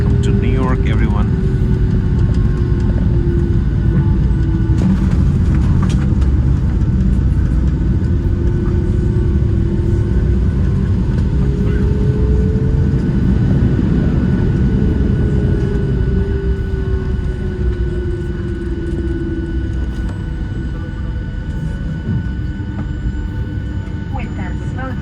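Cabin of a Boeing 757-200 airliner rolling out after landing at Newark Liberty International Airport: a loud, steady low engine and airframe roar fills the whole stretch, with slowly sliding tones as the engines spool down.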